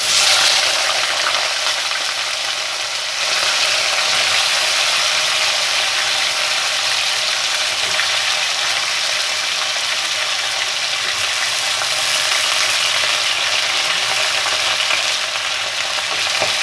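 Cut potatoes fry in oil in a kadhai, a loud dense hiss and crackle that holds steady and close throughout with no voices.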